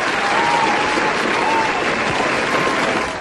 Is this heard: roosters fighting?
no